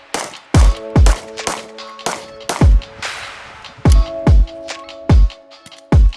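Walther PDP striker-fired pistol firing about ten loud, sharp gunshots in an uneven rhythm, some in quick pairs, with ringing echoes and faint background shots between them on an outdoor range.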